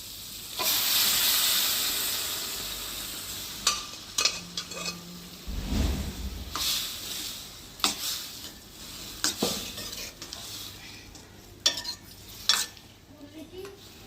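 Chickpeas tipped into a pan of simmering tomato puree gravy with whole chillies, giving a steady sizzle broken by scattered clinks and scrapes of a spoon stirring against the pot, close and moderately loud, with no talking.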